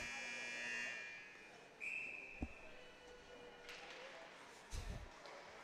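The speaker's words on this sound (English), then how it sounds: "So now the buzzer will go off in the rink." An ice hockey rink buzzer at a 12U youth game, a single bright electronic tone sounding at a distance in the arena, with a commentator talking around it.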